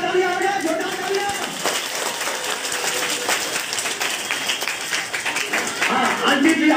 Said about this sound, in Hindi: छोटा तालियां हो गया, छोटा तालियां